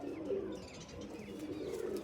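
A pigeon coos softly in a low rolling call, faint and close, with no talk.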